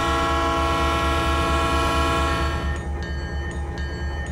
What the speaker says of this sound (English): we got this nice Conrail SD40-2 here. And just listen to the horn of this thing.